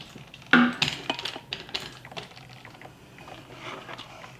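Sourdough discard cracker dough mixed in a bowl, irregular clicking and scraping knocks of a utensil against the bowl, close and moderately loud, with no talk.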